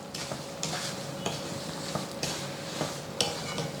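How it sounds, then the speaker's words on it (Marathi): Semolina sheera being stirred in a pan: steady scraping and stirring strokes with repeated soft clatters of the spoon against the pan, close and continuous, with no talking. "तर हे देखील मिसळूयात आणि एकसारखा ढवळत पुन्हा शिजवून घ्यायचं."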